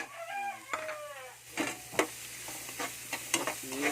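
Chili and onion sautéing in margarine for pork sisig, with a few short scraping stirs and soft sizzling close by, while a rooster crows faintly in the background.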